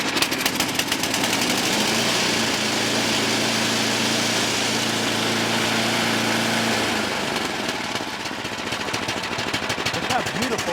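An old MTD triple-belted 1028 snowblower engine idles steadily after warming up, a loud, rapid, even chugging that stays up close and continuous, easing slightly toward the end.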